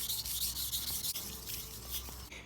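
A chisel blade is honed on a finer sharpening stone with steady, close rubbing strokes, a continuous gritty rasp with slight rhythmic swells and no talk.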